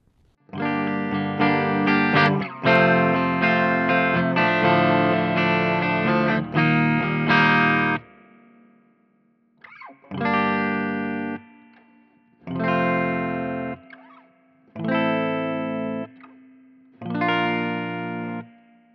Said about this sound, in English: Let me show you the reverb real quick.